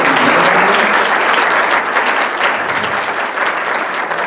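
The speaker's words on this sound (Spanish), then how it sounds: "Yo pienso que también otro aplauso," Dense, loud applause from a seated university audience at a lecture on constitutional debates, continuous and sustained throughout, close and without any talk over it.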